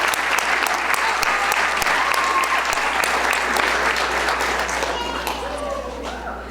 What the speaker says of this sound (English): How about we give another round of applause for Mr.